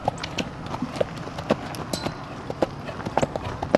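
Horse cantering with a steady series of hoofbeat clip-clops, rhythmic and fairly close, under a faint background of other noise.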